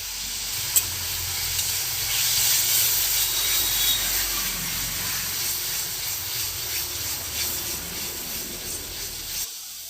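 Kashmiri red chili powder hits a pan of well-fried masala and sizzles loudly and steadily, a continuous close hiss that runs the whole time with no talking.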